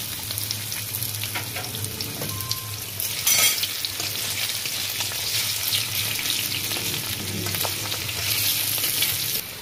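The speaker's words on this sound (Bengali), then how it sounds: "ওই তেলে আমি একটু আলুগুলো ফ্রাই করে নেব।" Potatoes fry in oil in a wok, a continuous dense sizzle and hiss held close throughout, with a few brief clatters and a louder burst of spitting partway through, no voices.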